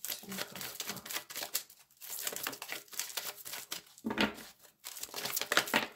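Tarot cards slipping and falling during a shuffle give off a dense run of crisp papery flicks and slaps, loud and close, broken by a few short pauses.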